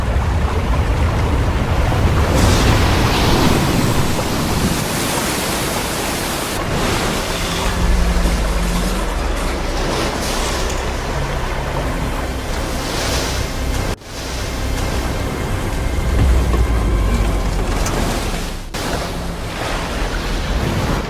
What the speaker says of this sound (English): Minutes later, a massive tsunami followed. The waves overwhelmed coastal defenses